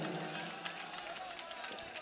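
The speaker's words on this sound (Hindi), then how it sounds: "तो एक बार चचा के लिए ज़ोरदार तालियां बजा हैं आप लोग" Dense, steady applause fills a mushaira poetry gathering in Kamptee as the audience claps for an elderly man, a continuous wash of many hands with no breaks.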